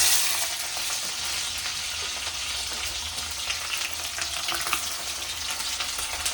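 Onions sizzle steadily in hot oil in a home kitchen pan, a dense, even frying hiss that holds close and loud throughout with small crackles and pops.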